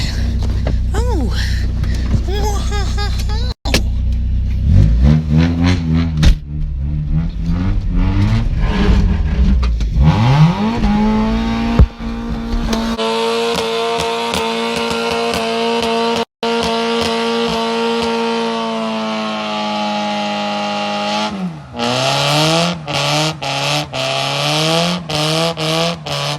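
A stock Mazda Miata does a burnout on tile, its engine revving hard and holding high rpm with rising and falling pitch, loud and close, while people talk and exclaim over the noise.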